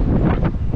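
Strong wind buffets the microphone on the open top deck of a boat in England, a steady loud roar with gusty low rumble throughout.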